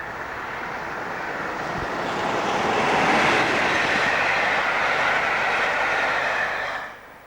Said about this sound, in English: The Crewe test train is seen west of Abergele.